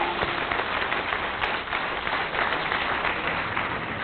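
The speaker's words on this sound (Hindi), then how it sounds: "मैं चाहता हूं एक बार दोनों हाथ उठाकर जोरदार तालियां हमारे इन पैरा के साथियों के लिए" Loud, continuous applause rises from a large audience at a Hindi poetry gathering (kavi sammelan) on 26 January, thick clapping held steady across the span with no voice over it.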